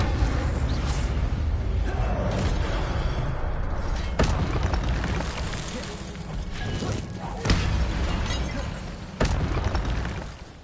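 A fire spell cast in Hogwarts Legacy on PlayStation 5 gives a continuous roaring, crackling rush, broken by three sharp, loud bursts of impact near the end.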